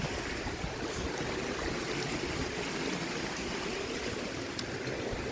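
Steady rushing flow of a mountain stream on a hiking trail, loud and close, a continuous broadband wash of water with no pauses and no voices.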